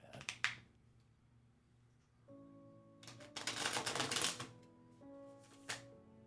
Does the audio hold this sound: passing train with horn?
no